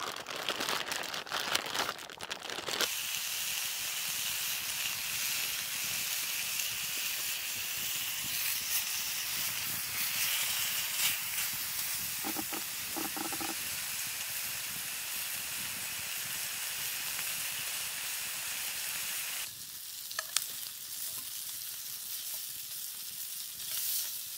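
Potatoes fry in a pan at an outdoor camp in a wilderness bog, giving a loud, steady sizzle that runs almost without a break, with occasional stirring and scraping and no talking.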